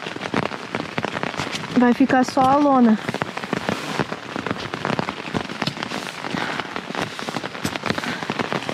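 Heavy rain drums on a tent's fabric in dense, crackling patter during a trekking trip along a railway, close and constant, while someone speaks briefly over it near the start.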